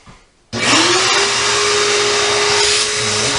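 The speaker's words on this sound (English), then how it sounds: "I'm going to vacuum all the dust out of the inside of this thing" A small 1-gallon shop vacuum roars on loud and close after a brief quiet start, holding a steady whine with a sustained motor tone as it sucks dust from inside a vent-free gas heater.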